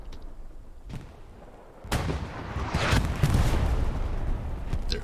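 Artillery fire in the video game Hell Let Loose: a few distant thuds followed by a loud, rumbling barrage of booming blasts that rolls on and slowly fades.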